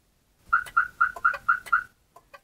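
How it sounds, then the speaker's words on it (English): Six short, evenly spaced electronic chirps from a Compustar CM7000 car alarm, loud and close, followed by a couple of faint clicks. "The car should chirp back 6 times now."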